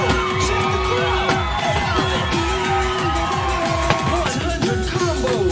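A crowd cheering and whooping in the DanceDanceRevolution A20 arcade game, mixed with a pulsing electronic beat that drives steadily underneath.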